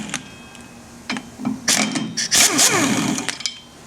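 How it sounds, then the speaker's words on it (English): An impact wrench works on the water pump bolts of a 454 engine, giving short bursts of rattling hammering interspersed with metallic clinks and handling noises. "found to do this is with my trusty impact wrench, because otherwise this thing wants to spin like this, and this thing impacts them out really quickly"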